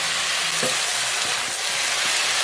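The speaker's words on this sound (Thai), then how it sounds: "แล้วก็ผัดคลุกเคล้าให้เข้ากันได้เลยครับ" Garlic chive filling seasoned with salt and pork-flavoured seasoning powder stir-fried in a pan: a steady, loud sizzle throughout, with a few soft clunks of the spatula tossing and mixing.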